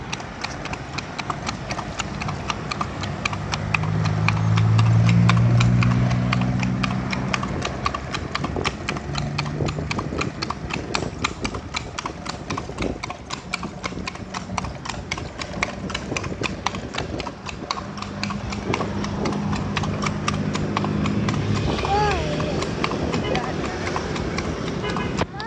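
Horse hooves clip-clop in a steady rhythm as a bendi horse cart rolls through Padang from the market toward the seafront, close and continuous, with people talking throughout.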